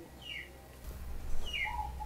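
Wild birds call outdoors, two or three short chirping phrases at moderate distance over a low background rumble.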